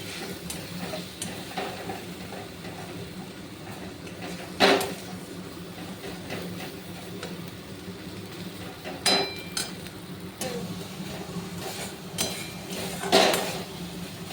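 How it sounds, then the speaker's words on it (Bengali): A spice masala with cumin powder is stirred and fried in a pan for a mushroom and potato curry. A low, steady sizzle runs under soft scraping strokes and a few sharper clinks of the spoon against the pan. "ততক্ষণ আমি সমানে কষে যাব মশলাটা"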